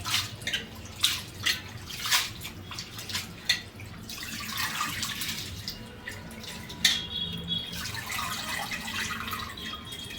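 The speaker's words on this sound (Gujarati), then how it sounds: "તાજા પાણીમાં સરસ રીતે ધોઈ લેશું" Water sloshes and splashes in a basin as hands wash grated sweet potato and carrot, with rhythmic bursts of dripping and swishing that settle into a steady trickle.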